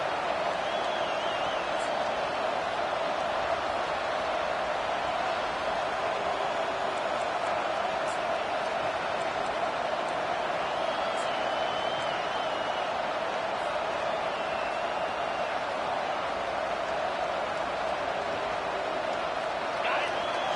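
Steady stadium crowd roar fills a college football video game matchup between Florida and FSU on fourth down, a dense continuous wash with no breaks and faint whistles or shouts on top.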